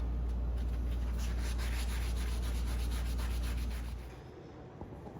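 A wooden take-down recurve bow limb is hand sanded with 220 grit sandpaper, giving close, continuous rhythmic rubbing strokes with a low hum underneath that cuts off near the end, leaving quiet.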